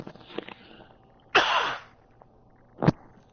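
A single sharp sneeze bursts out close and clear amid near silence, followed shortly by a smaller sniff or cough-like burst.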